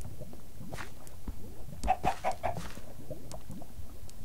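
Chicken in the video game Minecraft clucking in a short run of four quick clucks midway, set against a steady background of game sounds, with no talk over it.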